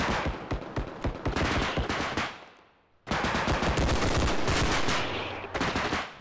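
Rapid automatic gunfire in the video game Bodycam, loud and close, with sustained bursts of shots, a brief break near the middle, then more continuous spraying fire.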